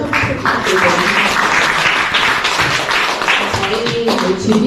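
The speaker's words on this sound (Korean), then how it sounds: "발표해주신 대표님께 다시 한번 큰 박수 부탁드리겠습니다" An audience at a pet-industry startup pitch event applauds a presenter, a dense burst of clapping lasting several seconds at steady loudness, with some voices mixed in.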